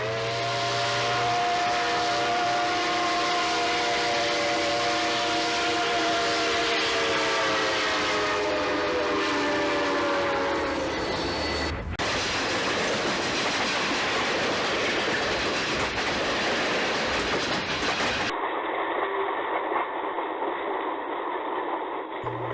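A steam excursion train runs on the South Mountain Grade Sub during a July 4th steam-up event. A drawn-out whistle opens over a loud, continuous rolling rumble of the train, which carries on steadily after the whistle stops.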